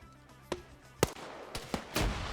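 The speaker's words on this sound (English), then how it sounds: "But we do hear some gunshots now as some Blue 4 are being engaged." Gunfire in a PvP video game match, with five sharp, separate shots spaced roughly half a second apart, moderately loud against a quiet background.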